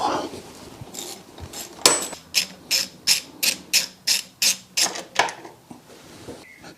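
A ratchet wrench clicks in quick, evenly spaced strokes, about a dozen loud close clicks, while the starter motor screw is removed from a BMW R1150 GS motorcycle.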